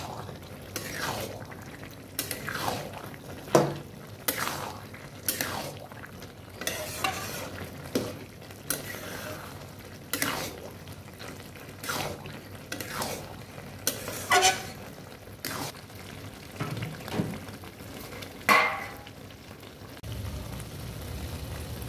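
A spoon stirs bottle gourd curry thickened with flour paste in a pan, scraping repeatedly in irregular strokes over a steady low sizzle, close and moderately loud, with no talking.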